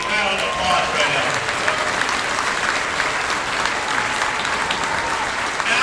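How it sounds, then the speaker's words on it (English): Sustained audience applause fills a room at an awards tribute event, steady and dense clapping from a large crowd with faint voices mixed in. "Let's give him a big round of applause right now."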